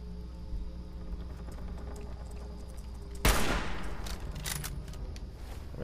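A sharp sniper rifle shot rings out in the video game Fallout 4 after a quiet ambient stretch, followed by a rapid string of further loud reports and echoing blasts.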